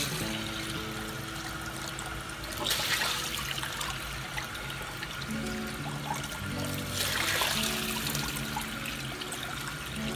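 Hot water pouring over sticky rice sitting in a bamboo steaming basket, a steady close trickle and splash of liquid lasting several seconds, swelling twice into heavier gushes.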